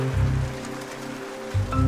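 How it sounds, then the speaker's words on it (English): Rain falls steadily over a wild outdoor setting, a broad hiss with a low rumble swelling at the start and again near the end, no voices. "It's raining."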